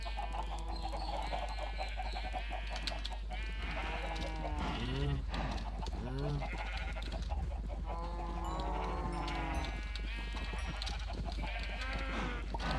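Minecraft farm animals crowded together, with repeated sheep-like bleats and clucking chickens among the lowing of many cows, steady and close over a constant low game hum.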